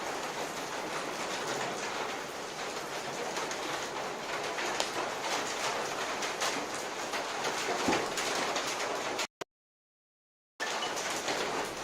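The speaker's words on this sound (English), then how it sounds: "I just sit on the table and record this rainstorm" Heavy rain pouring at night in Taiwan, a dense, even hiss of falling water recorded close up and steady throughout, with one brief dropout near the end.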